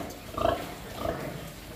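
Pigs grunting in a farrowing pen where a sow has just given birth to a large litter, with a couple of short grunts in the first second over low, steady pen noise.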